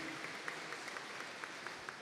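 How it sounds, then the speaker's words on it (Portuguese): Applause fills a solemn session honouring Miro Teixeira, a steady crowd clapping at moderate distance with faint scattered peaks, no voices standing out. "a quem eu peço também uma salva de palmas ao meu amigo Miro Teixeira"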